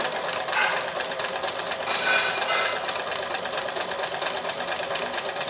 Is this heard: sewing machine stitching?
yes